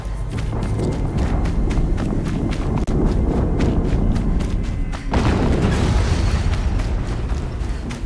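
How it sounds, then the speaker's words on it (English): Another explosion in the video game Horizon Zero Dawn, a heavy boom amid continuous loud rumbling and rapid thudding impacts, with a second burst swelling midway through the dense, chaotic din. "Another explosion."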